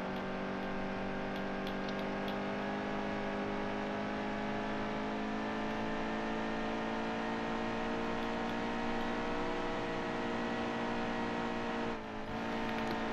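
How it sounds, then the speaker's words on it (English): NASCAR race car in NASCAR Heat 2, its engine droning steadily and building in pitch as it accelerates, loud and continuous with a brief dip near the end and no talk. "Get this car up to speed."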